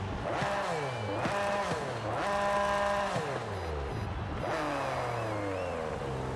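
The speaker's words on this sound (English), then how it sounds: "Let's hear the car sound." Ford GT40 race car in Forza Horizon 5 with repeated rising revs and sharp gear-change drops, an aggressive engine note at moderate volume with no voices.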